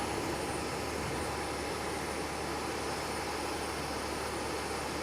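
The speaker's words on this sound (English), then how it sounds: "That guy came in, did a landing, and then took off again." An aircraft at Nagasaki Airport doing a touch-and-go, heard as a steady, broad engine roar that holds even throughout, at a distance and with no voices.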